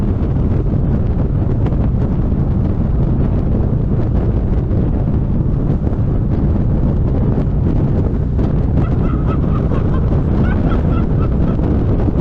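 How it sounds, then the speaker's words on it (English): Strong wind roars over the microphone during a Harley-Davidson motorcycle test ride, a loud constant rush with the engine buried underneath and faint tonal whines late on. No talking. "that wind is blowing, bro. It's kind of throwing the bike around a little bit"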